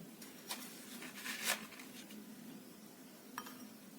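A few light metallic clinks and scrapes of a teaspoon scooping baking soda powder from a container, sparse and close, with quiet pauses between them.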